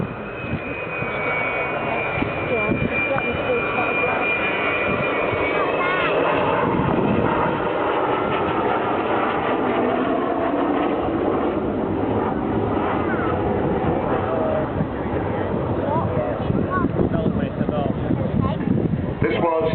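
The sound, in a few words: Avro Vulcan XM607 jet bomber flying past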